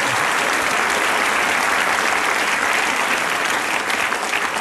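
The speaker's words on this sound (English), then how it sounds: "What are you applauding for?" A studio audience applauds loudly and steadily, a thick continuous wash of clapping with no talk over it.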